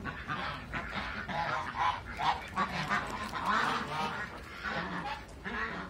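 Flock of American ducks quacking and honking together, continuous overlapping calls close by and fairly loud, with faint human voices mixed in the background.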